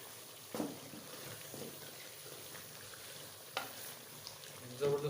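Chilies hit the pot of chicken pota and give a faint, low sizzle, broken by a few soft knocks and stirring sounds. There is no talking.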